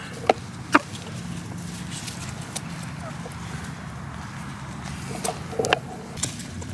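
Chickens cluck softly while pecking at food, with scattered sharp pecks and taps against a faint outdoor background hum.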